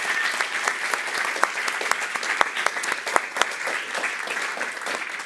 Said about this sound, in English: give a round of applause for Caroline Klipper